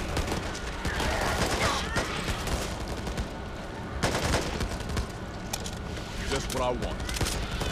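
Rapid bursts of gunfire from the zombie shooter Back 4 Blood crack out repeatedly, loud and close, over continuous game noise while players talk over the shots.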